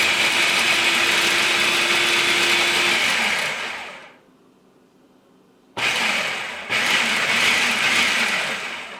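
A food processor pulses jerk chicken marinade in loud whirring bursts, running several seconds, cutting out briefly, then whirring again in two quick restarts, close and alone.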